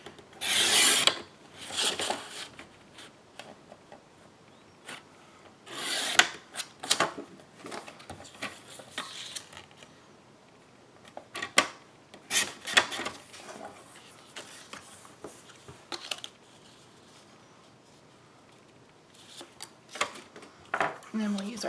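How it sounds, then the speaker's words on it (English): Scissors cut paper for a small Keurig gift box in several bursts of crisp rasping snips and rustling, close up, separated by pauses, with a person talking in between. "So I'm going to cut this down to 2 inches."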